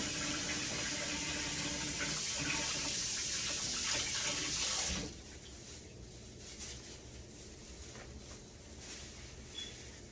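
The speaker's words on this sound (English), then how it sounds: "Rinse this off." Tap water runs steadily into a bowl at a sink to rinse out leftover oil while making natural soap, strong and close for about five seconds, then cut to a much quieter trickle and faint handling sounds.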